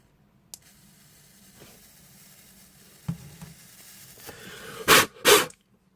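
A dry-burning vape coil on a Bellus RTA rebuildable tank at 35 watts gives a faint, steady crackle, then two loud, sharp sizzling bursts close together near the end.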